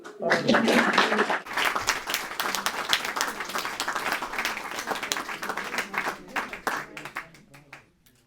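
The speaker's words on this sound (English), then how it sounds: "Penelope is right here to be applauded" Audience applause after a literary reading program, a moderately loud burst of clapping that swells quickly, rolls on unevenly, then tapers off and fades out near the end.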